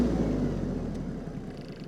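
Iseki TLE3400 compact tractor engine idling as the revs are lowered, a steady low rumble and whir that settles slightly, close and continuous with no talk.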